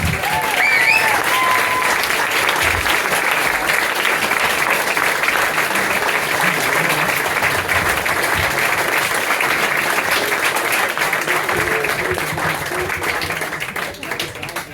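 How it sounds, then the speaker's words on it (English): Sustained applause from a crowd at a town presentation evening in Kendal, dense steady clapping for about fifteen seconds that starts to fade near the end. "Round of applause for Amy."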